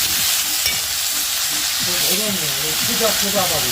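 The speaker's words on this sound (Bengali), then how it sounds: "তো এই যে দেখতে পাচ্ছ কষ আলুটা ভেজে নিলাম" Potato pieces frying in a pan while being stirred, a close, continuous sizzle with scraping stir strokes, and some background voices partway through.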